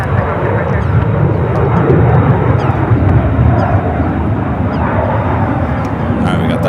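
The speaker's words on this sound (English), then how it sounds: "we got that Dreamliner coming in from Tokyo Narita" A Boeing 787 Dreamliner arriving from Tokyo Narita produces a loud, continuous engine roar with a strong low rumble, while people talk over it and a dog may bark briefly.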